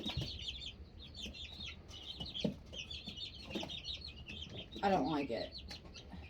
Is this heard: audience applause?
no